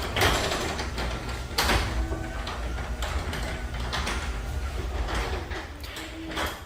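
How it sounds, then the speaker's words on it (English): Space saver garage door opener runs with a continuous mechanical whir, overlaid by recurring clunks and rattles as the door travels, heard close up with no voices. "another reason that I got this space saver garage door opener is because it is a heck of a lot quieter"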